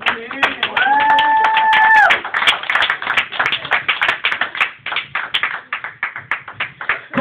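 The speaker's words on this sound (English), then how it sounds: "let's give him a hand clap of praise" Church youth-service audience clapping hands in praise: rhythmic, close claps repeating steadily through the whole stretch, mixed with voices.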